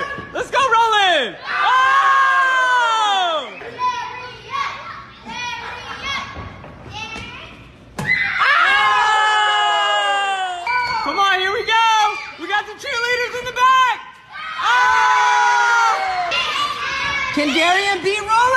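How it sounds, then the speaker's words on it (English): A crowd of kids cheers and screams in loud, excited bursts with whoops and shouted encouragement. There are brief pauses between the bursts and occasional thumps underneath. "Come on, the crowd's going crazy!"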